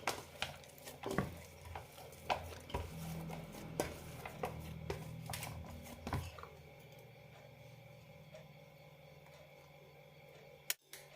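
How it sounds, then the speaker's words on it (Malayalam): Soft parotta dough worked by hand with oiled palms, giving sticky slaps and squelches in an irregular rhythm, fairly quiet, then fading to near silence with one sharp knock at the close. "ഇനി നന്നായി കുഴച്ചെടുക്കാം."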